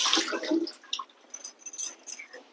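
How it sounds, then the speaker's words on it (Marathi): Water is drained off washed potatoes, producing a short splashy pour that starts loud, then trails into softer trickles and drips. "आता मी ह्यातनं पाणी काढून घेणार आहे."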